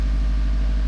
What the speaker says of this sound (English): I'm just gonna go ahead and let this idle for about 10 minutes.